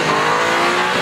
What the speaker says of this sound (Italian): mi ha fatto subito venire i brividi il propulsore, che è l'S58 biturbo